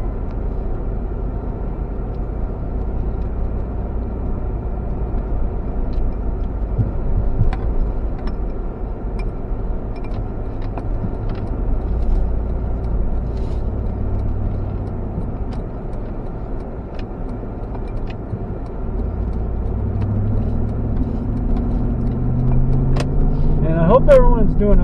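A car drives along a road with a steady low engine and road rumble throughout, small ticks and rattles scattered over it and a slight rise in engine note near the end.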